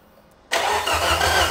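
A car engine cranks and catches after a short silence, then settles into a steady running rumble.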